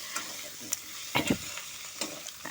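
Potatoes, capsicum and onion fry quietly in a pan with a soft sizzle, and a few sharp stirring scrapes fall near the middle and toward the end, with no voices.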